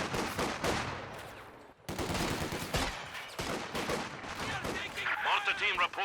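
Gunfire in the WWII strategy game Company of Heroes 2, a US versus Soviet and German 2v2 match: loud rapid bursts and machine-gun rattles with heavy impacts, steady battle noise throughout and no clear talk.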